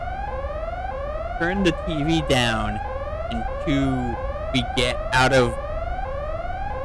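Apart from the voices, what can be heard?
alarm going off in video game Xenosaga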